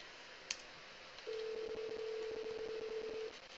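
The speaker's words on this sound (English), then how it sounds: "let's go ahead and use the call manager to dial" Telephone dialing tones from a call manager on a ShoreTel phone system: one short beep, then a steady electronic tone held for about two seconds, clean and quiet with no talking.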